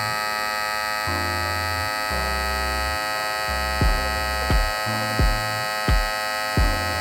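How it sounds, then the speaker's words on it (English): A TPOB Troll cordless hair clipper runs with a steady, fairly quiet motor hum, its pitch dipping and lifting in a run of short surges toward the end, with no talking. "So as you can see guys, the Tpob clipper is a lot quieter"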